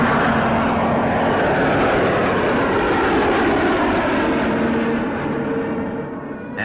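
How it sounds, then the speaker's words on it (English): A de Havilland aircraft in smooth flight on a test flight, its engine drone steady and loud throughout before easing slightly near the end. "It flew extremely smoothly and responded to controls in the best way that our de Havilland aircraft usually did."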